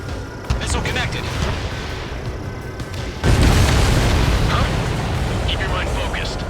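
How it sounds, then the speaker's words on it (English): A missile strikes its target in the Ace Combat 7 jet combat game, a sudden loud deep boom that swells the steady roar of engines and battle noise, with a faint radio voice nearby. "Missile connected."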